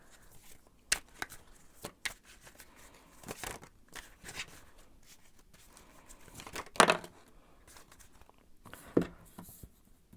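Tarot cards are shuffled by hand close up, with quiet irregular riffles, soft slaps and crisp snaps of card stock scattered through a hushed room, and no talking.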